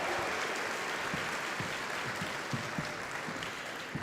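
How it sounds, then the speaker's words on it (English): Steady applause from a large audience at the Pokémon World Championships in Hawaii, a continuous wash of clapping that holds evenly and fades slightly toward the end. "please, one more round of applause for that amazing Hawaiian welcome"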